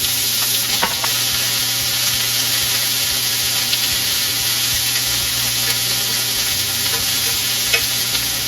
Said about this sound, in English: let's go ahead and start frying up the chicken. I like to fry it in a grill pan.